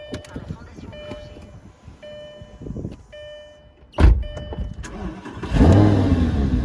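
A Lamborghini Gallardo with its original factory exhaust starts up: a few quiet electronic chimes and clicks come first, then the starter catches with a sudden loud burst, and the engine settles before rising into a deep, rumbling rev close by.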